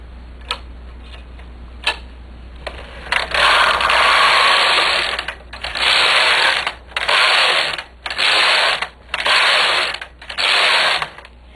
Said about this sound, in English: I'm going to knit a few rows with my green yarn.